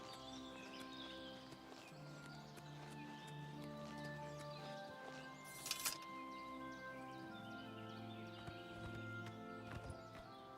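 Horse hooves clip-clop steadily in The Elder Scrolls IV: Oblivion Remastered, a moderate rhythmic gait over a constant bed of game music, with a short sharp burst midway.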